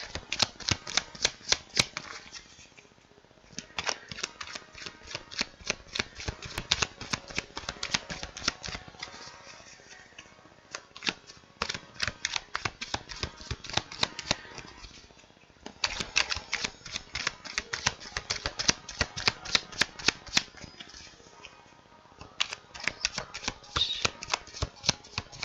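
Tarot cards shuffled by hand, rapid riffling bursts with brief pauses between rounds, close and steady, no talk over them.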